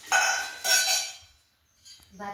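Steel kitchen utensils, a ladle, pot and plates from a new cookware set, clanking and ringing in two bright handling bursts, then a pause and a lighter clink at the end.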